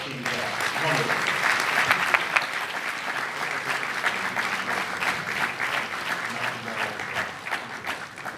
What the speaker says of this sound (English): I'd like all of our audience to give a round of applause to our esteemed guest.